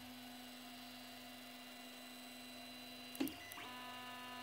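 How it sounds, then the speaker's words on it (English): An Ender 3D printer homing all axes gives a steady faint motor hum, then a short sweeping whir and a soft clunk near the end as the axes move and stop. "you can home all axes with a command through the rotary knob"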